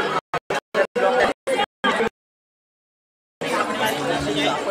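Crowd hubbub at a night village fair (jatra), first heard in short choppy bursts, then a gap of silence, then a steady, fairly close wash of overlapping chatter.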